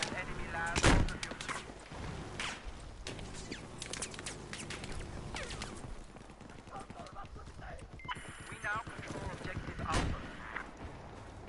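Sharp, punchy game gunshots crack out several times over a busy mix of effects and noise, with one especially loud burst near the start.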